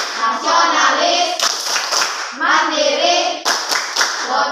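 Children clap hands in a quick rhythmic pattern while chanting together in unison, loud and close, repeating in two bursts.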